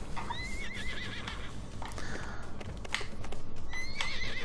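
A horse in the video game Trials Fusion whinnies with high, wavering neighs, repeated twice amid clip-clopping hooves and clattering game noise, fairly close and clear.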